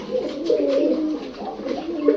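Continuous low pigeon cooing, several birds overlapping in a steady, throaty murmur that carries on throughout at moderate loudness.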